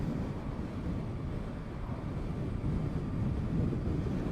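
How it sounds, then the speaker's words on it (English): Heavy wind buffeting the microphone while riding a Zero SR/F electric motorcycle on a windy day, a loud, constant low roar filling the whole stretch with no voices. "it's quite windy today, as you can probably hear"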